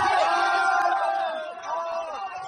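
Crowd at an outdoor school ceremony shouting and jeering at a speaker on stage, a loud, continuous mass of raised voices filling the clip.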